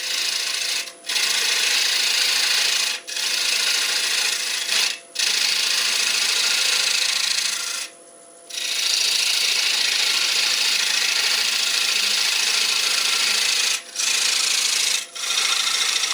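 A wood lathe turns a traditional German ring while a detail tool takes small cuts, a steady bright scraping hiss that runs continuously with several brief gaps as the tool lifts off, close and loud.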